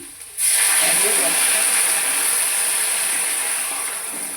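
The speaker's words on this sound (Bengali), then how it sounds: "গরম জল দিয়ে দিলাম" Hot water poured into a hot cooking pan sets off a sudden loud, steady steam hiss that stays close and strong for several seconds, fading only slightly.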